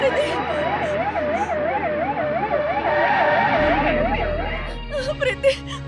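An ambulance siren wails loudly with a rapid, regular rising-and-falling yelp, sounding close, then fades as people shout over and around it.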